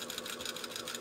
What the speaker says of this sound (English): I do sometimes sew over my pins.